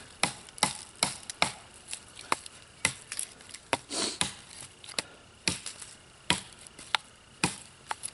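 A knife chops sharply against a board in a string of crisp, irregular knocks, about a dozen cuts, close and distinct with quiet between.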